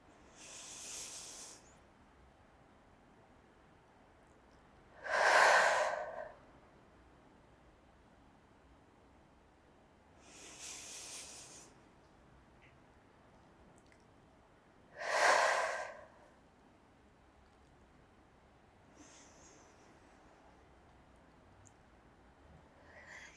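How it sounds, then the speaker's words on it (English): Slow, deep yoga breaths during a vinyasa flow, four long airy exhales and inhales spaced about five seconds apart, close and breathy, two of them noticeably stronger. "We'll take a couple deep, big breaths here."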